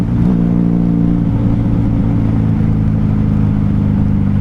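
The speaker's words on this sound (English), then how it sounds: "It's cruising in fifth gear because we don't have a sixth." A 1994 Honda Magna 750 (VF750C) V4 motorcycle cruising in fifth gear on a night ride, a loud, steady engine drone with wind rush, close and constant without talk.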